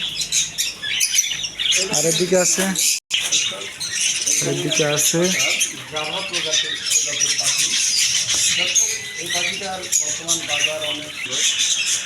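Budgerigars in a bird shop chirp and squawk continuously at close range, a dense busy chatter of many birds, while someone talks over them.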